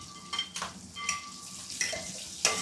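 Onions fry in leftover oil from frying chicken for a home biryani, a quiet, steady sizzle broken by a few brief stirring scrapes and clinks.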